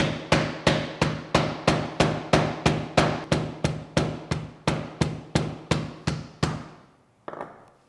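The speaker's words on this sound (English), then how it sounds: "So choose your spot wisely where you can be banging on a hammer over it." Hammer pounding a block of beeswax to break it into chunks, about eighteen evenly spaced heavy thuds in a steady rhythm, close and loud, then a pause and one softer knock.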